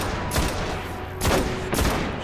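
Three sharp gunshot bursts from weapons in Destiny, spaced unevenly over a couple of seconds, each a loud crack with a booming tail over low game ambience.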